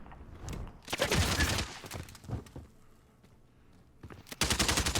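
Automatic gunfire in Modern Warfare gameplay comes as loud, rapid bursts of shots. A long burst is followed by a few scattered shots, a quiet gap and then another sustained burst, with no talking.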